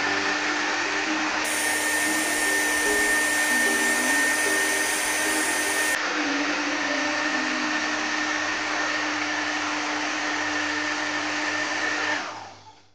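A hair dryer blows steadily to warm hair for curling at home, a loud, constant close-up whir that runs unbroken for about twelve seconds before switching off.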